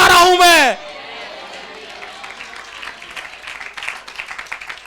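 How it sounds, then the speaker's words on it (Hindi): Church congregation at a sermon breaks into loud, dense hand clapping that cuts off abruptly, followed by softer scattered claps and murmuring under a preacher's voice. "अगर ताली बजा रहे तो कंजूसी मत करिए ना, अच्छे से बजाइए प्रभु के लिए"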